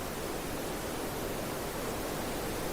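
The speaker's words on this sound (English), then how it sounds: "the next example we've got is green noise." Steady broadband green noise, a smooth, even hiss with a soft mid-range emphasis, held at constant level throughout with no voices.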